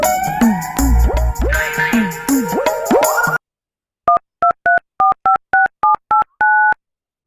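A phone call being placed: a loud melodic electronic tone pattern with sliding chirps, then a pause and about ten short, evenly spaced keypad dialing beeps, clear and close with no voices.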